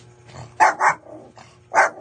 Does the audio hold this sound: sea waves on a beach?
no